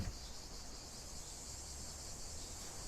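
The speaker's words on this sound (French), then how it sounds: "Le bruit des cigales" A steady, shrill insect buzz drones continuously, like cicadas in the heat, with a soft hiss of background noise and no pauses.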